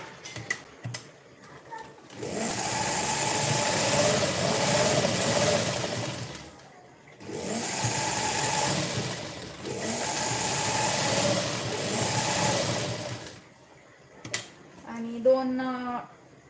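Sewing machine running bursts of stitching along lace on a blouse, two long steady runs of mechanical whirring separated by short pauses, with brief talk at the end.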